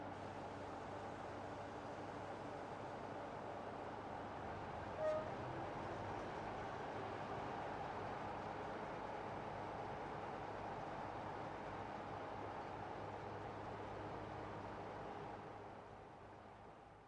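British Rail Class 45 diesel locomotive 45139 entering Huddersfield at the head of an eastbound Transpennine train, a steady, continuous low rumble and rail noise that holds level throughout before easing slightly at the end.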